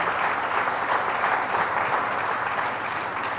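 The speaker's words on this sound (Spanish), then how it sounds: "Fuerte ese aplauso" A church congregation applauds steadily and loudly during a Mass, a dense sustained wash of clapping with no talk over it.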